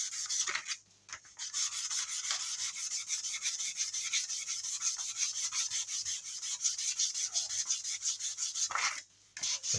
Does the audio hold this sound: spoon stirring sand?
no